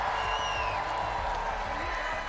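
Crowd in Fort Worth cheering and applauding at a Fortnite championship event, a dense continuous roar of clapping and shouts with a host talking over it.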